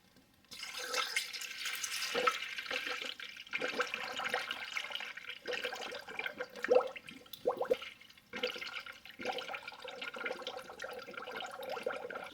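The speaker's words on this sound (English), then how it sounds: "Just fill it in until it stops taking any more coolant." Coolant pours into the radiator of a 2007 Toyota Highlander Hybrid as faint, close gurgling and splashing in irregular bursts, with brief pauses between pours.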